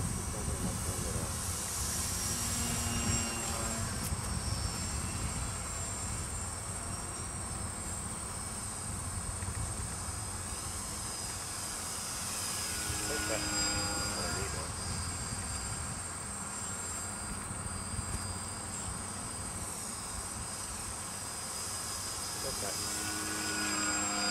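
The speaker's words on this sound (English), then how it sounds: "Very light plane." The steady buzzing drone of a very light model propeller airplane, rising and falling as it flies around, with wind noise throughout.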